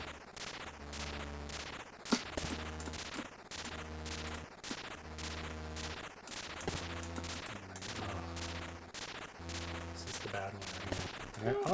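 Repeated electronic shooting bursts from an Atari 2600 or 7800 game, looping in a steady rhythm over synthesized tones with a sharp blip near the start, loud and continuous with no voices.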